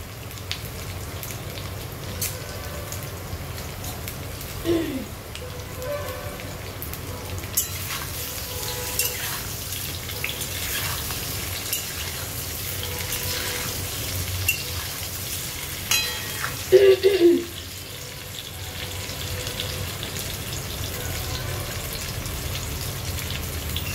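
Potatoes frying in oil for Kashmiri aloo dum give a steady, faint sizzle and bubbling that runs throughout, with a couple of brief louder clatters of stirring near the middle and end.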